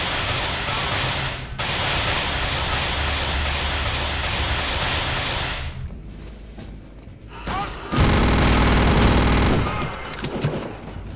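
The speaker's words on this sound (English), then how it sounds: "Sound effects are quite good, with each weapon having a very distinct sound to it." Weapon fire from Return to Castle Wolfenstein, a first-person shooter game: loud, sustained automatic bursts rattle almost without pause, ease off briefly midway, then return in a heavier, denser volley.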